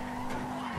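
In the video game GTA Online, a car brakes and its tires skid, giving a sustained squeal with a steady whining tone over rumbling road noise, loud and continuous for under a second.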